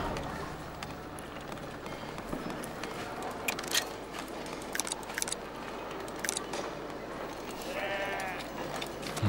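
Sheep at a sheep farm in the video game Foundation bleat several times over a busy, steady ambient game soundscape, with a clearer, louder bleat near the end.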